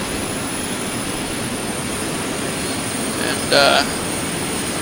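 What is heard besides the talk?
aircraft engine in Microsoft Flight Simulator X video game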